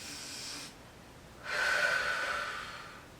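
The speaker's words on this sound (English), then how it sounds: "Take a deep breath here." A deep breath taken during a Pilates reformer stretch, one close inhale through the nose followed by a longer, louder airy exhale, with no speech.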